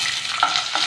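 Garlic and curry leaves frying in hot oil in a pan for bitter gourd pickle, a brief close sizzle with scraping stirs.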